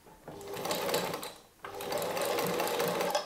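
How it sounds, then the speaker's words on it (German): A household sewing machine runs a wide zigzag stitch close along the outer edge of fabric for a Halloween pumpkin basket, two close motor-driven runs with a brief pause between, clear and near. "Und nähen wieder den äußeren Rand ganz knapp ab."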